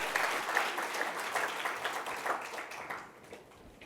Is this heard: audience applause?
yes